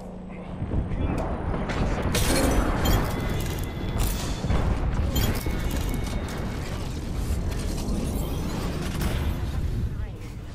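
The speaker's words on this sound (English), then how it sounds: "Airstrike coming in." Booming explosions from Gibraltar's airstrike in Apex Legends land as a loud, continuous barrage of blasts and rumbling debris. Voices speak over the bombardment.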